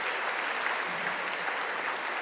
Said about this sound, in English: Another big round of applause for Vin.